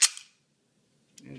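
Dummy rounds are chambered in a DL-44 blaster replica: one sharp, close metallic clack and a softer follow-up click, then silence before a brief rustle of handling near the end.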